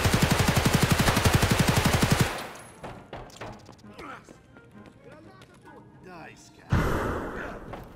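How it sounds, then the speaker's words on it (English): Rapid automatic gunfire in the shooter game Escape from Tarkov, a loud close burst of evenly spaced shots, then quieter scattered sounds and another sharp loud burst near the end. "Why are you shooting me, Hog?"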